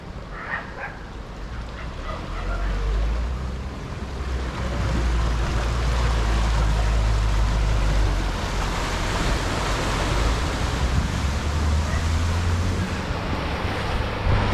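A Peugeot car driving through a flooded ford and floating as it crosses, heard as a broad, continuous rush of churning water under strong wind noise on the microphone, building and holding steady.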